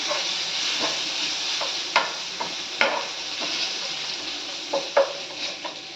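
Curry leaves drop into hot oil over low heat for khichdi, giving a steady close sizzle scattered with sharp crackling pops.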